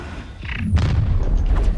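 A Confringo spell exploding in the game Hogwarts Legacy: a short whoosh and then a low, rumbling boom that lingers for about a second, fairly loud, with a few small crackles at the end.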